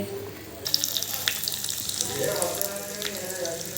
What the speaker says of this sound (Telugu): ఇదండి చారుకు తాలింపు వేస్తున్నాను